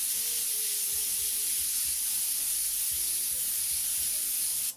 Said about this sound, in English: We're just going to use the transparent blue. Nice wide spray once again.